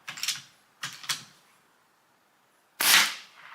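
Umarex Komplete NCR airgun, refillable with a Notos cylinder, firing single shots: two sharp cracks close together, a pause, then a louder broadband burst, all up close with no talk.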